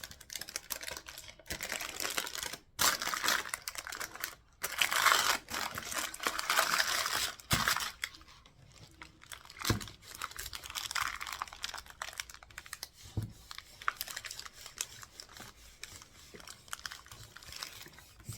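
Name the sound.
paper napkin being rolled around a candle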